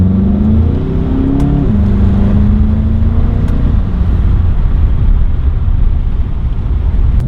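A Mk7 VW GTI fitted with an ECS Tuning air intake accelerates from inside the cabin, its engine drone rising in pitch, then dropping at a gear change and continuing as a loud steady hum and road roar.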